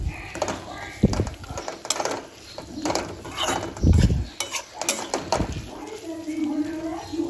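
Spicy chicken fry stirred in a pan, a spoon scraping and clinking against the metal in uneven strokes with soft food sounds, close and moderately loud, with a few brief thuds.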